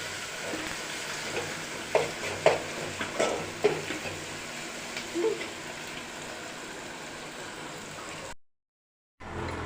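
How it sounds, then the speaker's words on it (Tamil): Okra tamarind curry ingredients sautéing in hot oil in a pan, a soft steady sizzle with occasional stirring clinks and pops, fairly quiet, cut off by a brief silence near the end. "நல்லா வதக்கணும். நல்லா வதங்கிட்டு இருக்கு."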